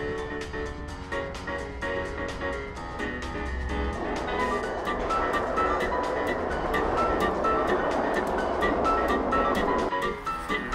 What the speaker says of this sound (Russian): Садимся на электричку и едем на вокзал.